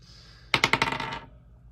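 A twenty-sided die rolled onto a hard surface, giving a close, sharp burst of rapid clattering bounces that fades out within a second, with no voices.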